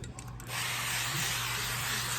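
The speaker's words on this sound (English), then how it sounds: "Now I'm gonna spray the avocado oil on there" Avocado oil from a spray bottle misted onto salmon being prepared for baking, a steady continuous hiss that starts after a brief rustle and holds loud and close to the end.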